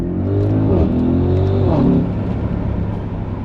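An Audi SQ7 engine revs hard, heard through an open window, a loud rising drone that climbs and falls back twice before settling into steady road rumble and wind.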